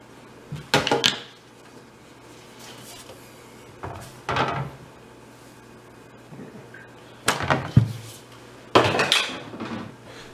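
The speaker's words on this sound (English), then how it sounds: "I'm just going to grab my cooling rack here, put that down, and then flip this over" A metal cake pan is set onto a cooling rack and flipped over while baking a carrot sheet cake, producing several distinct clanks and clattering knocks spaced apart, close and moderately loud against a quiet kitchen.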